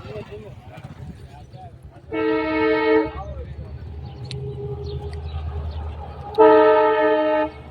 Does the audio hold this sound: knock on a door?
no